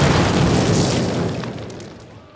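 Explosives blow up a cinder block wall in the video game Call of Duty: a loud, close boom that rolls and decays over about two seconds, with no talk over it.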